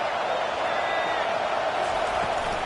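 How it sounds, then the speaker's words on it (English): A stadium crowd at an Alabama versus Ohio college football game roars in a loud, sustained wash of cheering and noise, dense and continuous throughout. "This crowd rising up, sensing that its defense needs some help."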